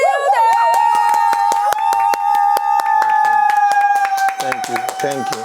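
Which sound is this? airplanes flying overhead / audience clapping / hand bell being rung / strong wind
audience clapping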